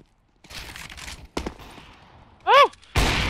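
Gunfire in the Counter-Strike: Global Offensive video game, with a few sharp shot bursts and a loud final blast, heard between short bursts of speech.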